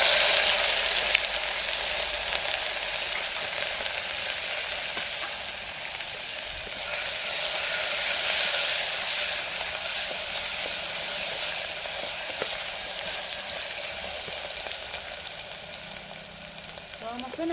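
Green chilli, ginger and crushed garlic fry in a pan for a village-style lentil and rice meal, giving a steady, dense sizzle that hisses without a break from start to end, with a few light stirring clinks.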